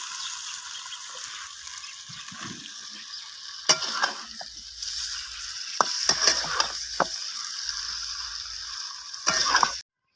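Ground fish curry paste frying hard in a pan over a wood stove, a loud continuous sizzle with occasional sharp scrapes and knocks of a spoon as it is stirred, ending abruptly.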